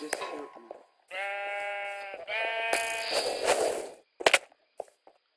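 Sheep in the Minecraft game bleat in two long, loud harmonic calls, followed by a burst of noisy clatter and a few short sharp game sounds near the end.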